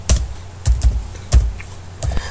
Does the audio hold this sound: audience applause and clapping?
no